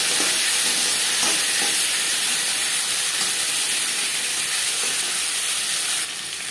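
Potatoes frying in hot oil with a bay leaf and panch phoron for a Bengali fish curry, a loud, steady close-up sizzle and hiss that runs unbroken, easing slightly at the very end, with no voices.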